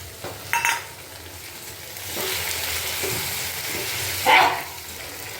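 Tomato and ginger fry in oil in a pan, a moderate sizzle that rises partway through, punctuated by a couple of sharp bursts of spattering and scraping as the pan is stirred.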